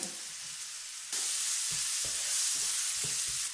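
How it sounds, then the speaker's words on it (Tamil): Steady, loud sizzling of onions with ginger-garlic paste and tomato frying in a pan, with soft thuds and scrapes of stirring breaking through the hiss. "இதெல்லாம் சேர்த்து கொஞ்ச நேரம் நல்லா வதக்கிடுங்க"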